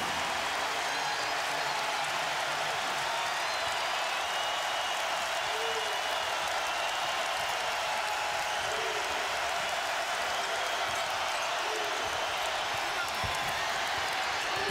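A loud, steady roar from the crowd at a college basketball game between Minnesota and Wisconsin, sustained cheering and applause filling the arena for the whole stretch with no break.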